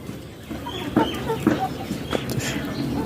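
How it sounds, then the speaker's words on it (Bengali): Hens clucking softly while feeding in a coop, a few short close calls scattered over steady background noise. "এই যে দেখুন, ও মুরগিগুলো খাচ্ছে"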